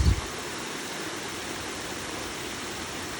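Water pours steadily into an underground tunnel, a continuous broad rushing wash that stays even throughout, with a brief low thump at the very start.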